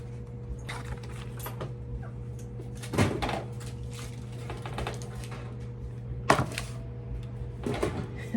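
Kitchen oven door shut after a tray of fall baked goods goes in, two or three firm knocks and clunks over a steady appliance hum, with quieter handling rattles between them.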